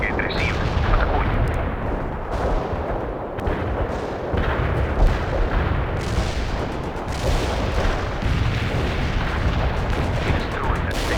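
An artillery fire support barrage in the strategy game World in Conflict rumbles with dense, overlapping booms and blasts, loud and continuous, with faint voices beneath the bombardment.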